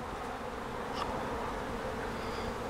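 Honey bees buzz steadily around an open hive being split, a dense, even drone of many wings close by with no voices.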